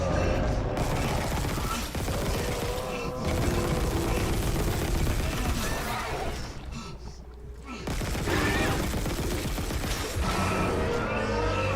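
Dense rapid gunfire against the final boss in the Dead Space Remake video game, loud and sustained with a brief lull near the middle before the shooting resumes.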